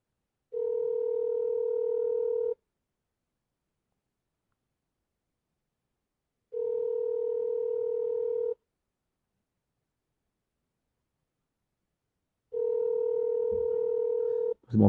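Repeating ringback tone of an unanswered telephone call, three steady two-second rings separated by long silent gaps, clear and close, with a faint rustle at the very end.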